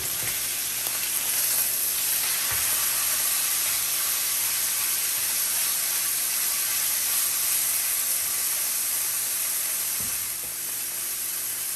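A garlic butter sirloin steak pan-fries with a continuous, close sizzle and hiss throughout, broken by a few soft knocks as it is flipped.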